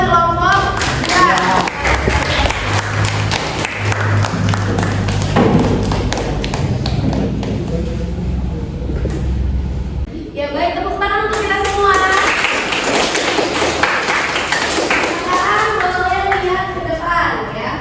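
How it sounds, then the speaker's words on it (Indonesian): A classroom group claps together in a dense burst of rhythmic hand claps, with children's voices and chatter mixed in throughout. "tepuk tangan dulu buat kelompok"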